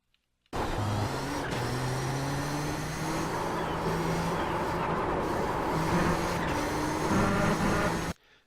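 Nissan GTP ZX-T race car at full throttle around Laguna Seca in the iRacing sim: a loud, steady engine roar that climbs in pitch through the gears, fills the whole stretch and then cuts off abruptly.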